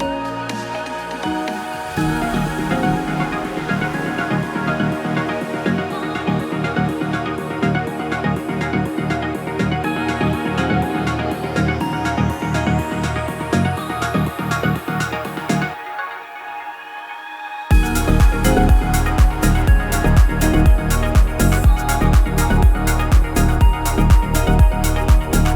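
A new synth arpeggio for a melodic house track plays as steady rapid repeating notes over a driving beat, dropping out briefly near the end before returning louder and fuller.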